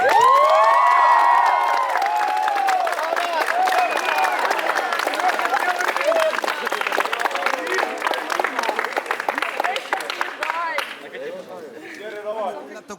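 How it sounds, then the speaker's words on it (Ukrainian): A crowd applauds and cheers at a school teachers' dance for graduating classes, with children's shouts rising over dense clapping that fades toward the end. "Ваші оплески!"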